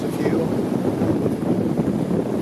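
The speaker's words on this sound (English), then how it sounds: "very windy, as you can see" Strong wind buffets an outdoor walk along the seashore near Changi village, producing a steady loud rumbling roar across the whole stretch with light gusty variation.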